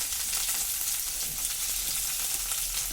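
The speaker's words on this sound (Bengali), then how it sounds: "সব আলু কোটাকে আমি এইভাবে দিয়ে দিলাম তেলের উপরে" Mashed boiled potatoes frying in hot oil, a dense, steady crackling sizzle that holds evenly throughout without pause.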